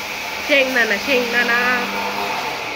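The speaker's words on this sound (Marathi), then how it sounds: "मिक्सर शेंगदाण्याचं कूट" A kitchen mixer grinder grinds roasted peanuts into powder, giving a steady, fairly loud motor whir that runs throughout while voices talk over it.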